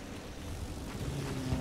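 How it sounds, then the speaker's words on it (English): A propeller plane passes overhead in the World War I shooter Battlefield 1, a faint, distant droning hum with a low, slightly wavering engine tone that grows a little stronger toward the end. "There's a plane over G."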